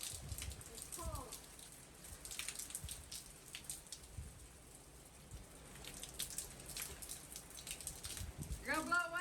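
Hurricane Ian's rain blows sideways in gusts in Tampa, a patchy, hissing wash of wind-driven drops with scattered spatters and a few brief voices nearby.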